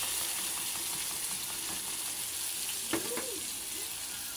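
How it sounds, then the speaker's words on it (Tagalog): Sweet sauce poured into a pan for chicken spaghetti gives a faint, steady frying hiss, with a brief stir or clink near the end. No voices are heard. "salin na natin ang sweet sauce"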